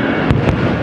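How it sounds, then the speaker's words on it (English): Fireworks go off over Magic Kingdom in a brief, loud burst, two quick booms over dense, rushing crowd and wind noise with no clear talk. "there's fireworks happening, like, just there"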